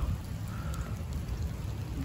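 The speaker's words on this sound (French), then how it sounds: "il pleut depuis hier" Steady rain falling in a vegetable garden, a continuous soft wash of drops with no voices, moderately close and even throughout.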